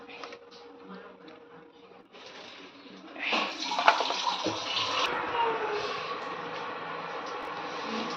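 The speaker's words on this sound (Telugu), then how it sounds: "ఇలా పోసేసాను 3 గ్లాసెస్ వాటరు." Three glasses of water are poured steadily into squeezed tomato pulp for rasam, a continuous splashing rush that starts partway through and stays loud, after some quieter handling noise.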